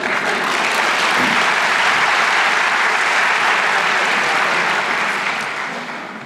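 Sustained applause from a lecture audience at a Tygodnik Powszechny discussion event, a dense steady clapping that fills the whole stretch and tapers slightly at the end.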